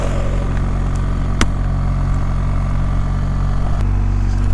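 BMW 1300GS motorcycle engine pulling steadily in first gear at about 4,000 rpm and 40 km/h, a continuous close mid-pitched drone with a couple of brief clicks and no talk.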